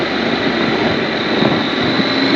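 Steady riding noise aboard a 2015 Honda NC700X motorcycle, a constant loud broadband roar of wind buffeting and engine drone with no breaks, close to the microphone.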